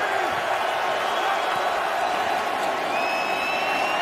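Stadium crowd roars steadily at a Minnesota Vikings home football game against the Tampa Bay Buccaneers, a dense, continuous wash of cheering and noise filling the arena, with a brief whistle-like tone rising near the end.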